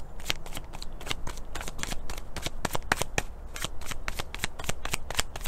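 Tarot cards shuffled for a reading, a quick steady run of crisp riffling snaps that repeats through the whole stretch, close and fairly quiet, with no talking.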